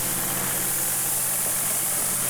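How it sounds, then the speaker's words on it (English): A 2019 tractor engine idles with a steady, even rumble and broad hiss, close by and continuous with no talk over it. "This is a 2019 tractor."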